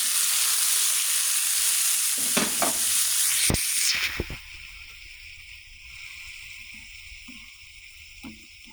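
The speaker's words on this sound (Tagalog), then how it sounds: "Sabay na po natin yung kamatis kasi madali na pong maluluto po yung sibuyas." Tomatoes and onions sauté in a pan with a loud sizzle and a few scraping stirs, then the frying sound abruptly drops to a faint low simmer with occasional soft clicks.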